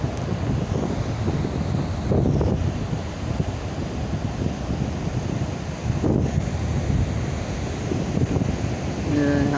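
Strong wind at Teluk Penyu beach in Cilacap blasting the microphone with heavy, gusting rumble and surf-like roar, surging at intervals, with faint voices briefly near the end.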